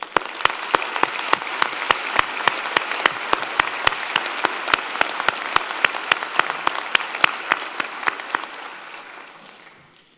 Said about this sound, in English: Let us take a moment with loud applause to celebrate you and to thank all those whose contributions have brought you to this day.